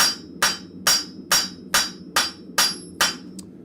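A blacksmith hammers iron flat on an anvil for a cloak pin, striking eight sharp, ringing blows at a steady rhythm of about two per second, loud and close.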